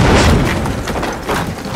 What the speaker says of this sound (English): Vasily quickly ignited the detonator, and after a loud explosion,